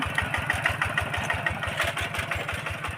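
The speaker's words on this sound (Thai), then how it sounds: "อันนี้กำลังไถ ไถไปแล้วรอบนึงค่ะ" A farm tractor engine chugs steadily while plowing a field for planting long beans, a rapid even thumping pulse with a rattling mechanical layer above it, close and continuous throughout.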